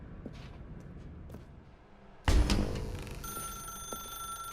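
A telephone in the video game The Stanley Parable: Ultra Deluxe rings after a few quiet footsteps and soft thuds, a sudden loud burst followed by sustained ringing tones that hang on to the end.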